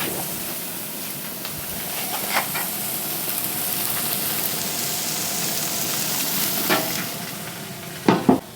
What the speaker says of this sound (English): I'm firing these steaks up at 750 degrees.